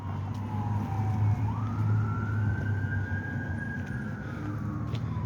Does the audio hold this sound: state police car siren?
yes